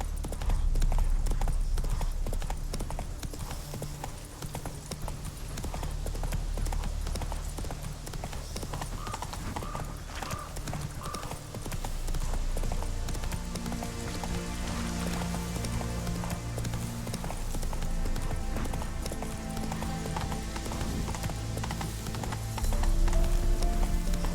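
Roach, a horse in The Witcher 3, trots and gallops in a steady rhythmic clip-clop of hooves that holds for the whole stretch, close and prominent, over low game ambience and music.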